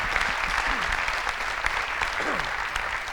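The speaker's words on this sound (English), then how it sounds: "let's offer our panelists one final round of applause" An audience applauds panelists at the close of a space education panel, a sustained, even roar of many hands clapping throughout, with faint voices underneath.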